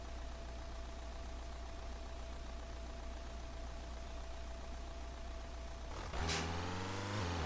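A truck engine in Euro Truck Simulator 2 holds a steady low drone with a faint tonal whine, then at about six seconds surges louder and rises in pitch as it accelerates, alone with no voices.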